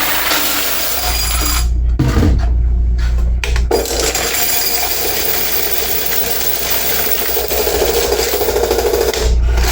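Coins rattle and rub as they are handled out of a laundromat soap machine, a loud, close, continuous metallic scraping and clinking with short gaps.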